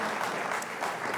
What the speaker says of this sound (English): Round of applause for both of these teams.